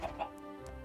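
Chickens cluck in the Minecraft TerraFirmaCraft mod game: two quick, close clucks at the start, then soft game ambience.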